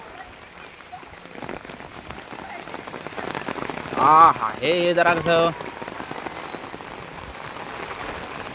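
Rain falls steadily across a garden, a continuous hiss of drops on surfaces throughout, with a person speaking briefly in the middle over the downpour.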